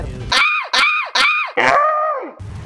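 A man screams in the Left 4 Dead 2 zombie game, four loud strained yells in quick succession, the last one longer and falling in pitch.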